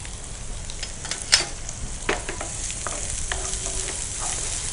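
Onions frying in ghee and oil for a cashew baby corn masala curry, a steady close sizzle broken by a few sharp stirring clicks and scrapes, with no talking.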